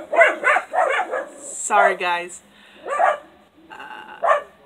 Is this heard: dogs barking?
yes